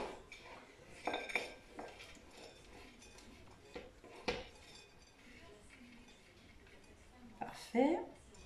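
Utensils scrape the contents out of a pot lid, with sparse clinks and knocks of dishes and cutlery, faint and close, ending in a brighter pair of clinks.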